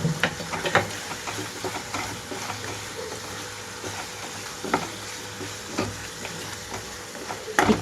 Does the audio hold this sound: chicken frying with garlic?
yes